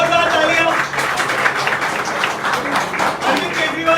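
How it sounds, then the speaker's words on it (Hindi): Loud, sustained clapping from a crowd at an Aam Aadmi Party joining ceremony and press conference, thick and continuous with voices mixed in beneath it. "जोरदार तालियां।"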